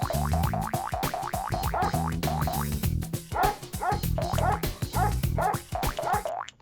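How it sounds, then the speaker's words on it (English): Rapid, repeated dog barks and yips from a Frogger-style video game, many short sharp bursts in a fast rhythm over game music, loud and steady throughout. "These gosh darn dogs."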